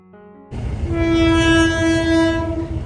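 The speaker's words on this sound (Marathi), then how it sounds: "मला सकाळी हमखास या फाटकवरती मला ट्रेन मिळते" A train rumbles past a level crossing in Panvel at close range, loud and steady, with a long sustained horn blast sounding over the rolling wheels; no one speaks.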